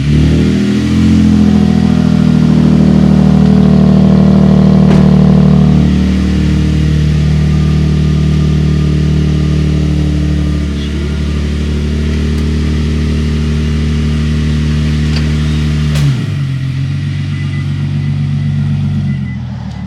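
A 2022+ Toyota Tundra with a Carven cat-back exhaust revs loudly up close, its deep rumbling tone rising and falling through several long pulls before settling into a steady idle.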